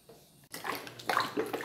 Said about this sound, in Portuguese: botei mais 2 litros d'água.